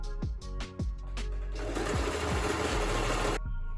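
A sewing machine stitches fabric for a scrunchie, starting with a few short bursts of whirring needle strokes, then running in one fast, steady buzzing stretch before stopping abruptly.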